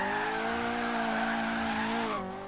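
A turbocharged Mazda Miata drifts in the racing game Forza Horizon 3, its engine holding a steady, loud drone under continuous tire squeal before the pitch drops near the end.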